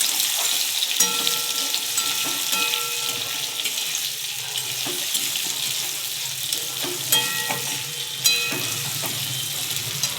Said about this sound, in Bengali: আমলকিগুলোকে দিয়ে একটু তেল আর পানফোড়নের সঙ্গে ভালো করে ভাজবো